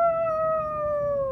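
A soft, silky black dog lets out one long, sustained howl that holds steady and slowly sinks in pitch, loud and close with nothing else heard alongside.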